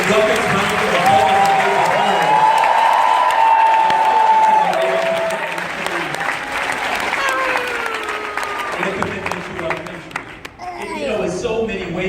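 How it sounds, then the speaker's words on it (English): Sustained applause from a large crowd welcoming military veterans at a Veterans Day speech by a politician, loud and continuous with some cheering, thinning slightly toward the end. "let's give them the welcome round of applause."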